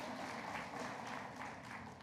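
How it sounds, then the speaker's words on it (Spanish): A church congregation applauds together, a dense, steady wash of clapping that fills the space without pause. "Denle un fuerte aplauso al Señor."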